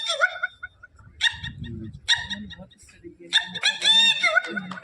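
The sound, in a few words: red-wattled lapwing (titodi) call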